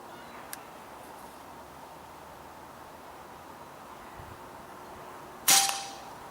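Artemis P15 air rifle fired in the field at a collared dove, a single sharp crack close by with a short tail, heard once against a steady outdoor background hiss and otherwise quiet.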